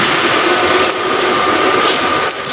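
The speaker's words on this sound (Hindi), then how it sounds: "और so ये हम metro पे जा रहे हैं." A metro train rumbles steadily through a subway station in Kharkiv, Ukraine, giving a loud, continuous rolling roar with faint high squeals from the wheels.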